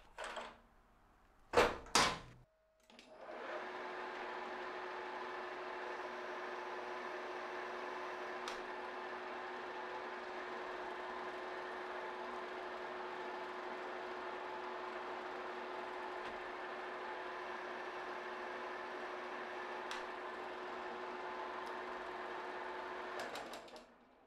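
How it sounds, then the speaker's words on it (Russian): A lathe spinning at 1250 rpm cuts a six-start thread with the half-nut disengaged between passes, giving a steady mechanical hum with a few sharp clicks at the start. "1250 оборотов в минуту, дорежем эту резьбу."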